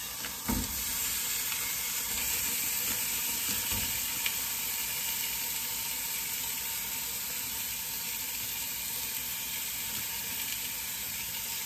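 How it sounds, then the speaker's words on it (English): Ground turkey and ground beef sizzling in a pan for chili, a loud, steady hissing fry with a couple of thuds near the start as the meat goes in, no talking. "add my ground turkey. I'm gonna add my ground beef."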